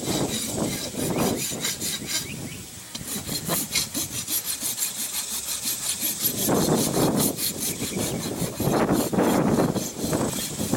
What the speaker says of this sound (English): now I'm using a smooth sided rasp